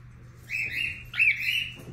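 A one-month-old baby cockatiel with red eyes and yellow plumage gives two thin, high chirps close by, each a short rising tweet, over a low background hum.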